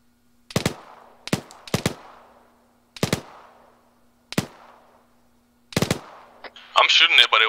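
Gunfire in a video game firefight: six sharp, loud single shots spaced irregularly over a few seconds, followed by a quick burst of rapid fire with brief voice chatter at the end.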